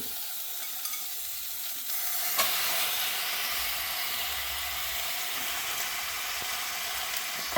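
Chicken hits a pan of cooked onions and fries with a steady, close sizzle and hiss that grows louder after a faint stir, with no talking.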